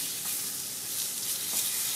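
Mushrooms frying in a pan give off a steady, close hiss of sizzling that holds at an even level throughout, with no voices over it.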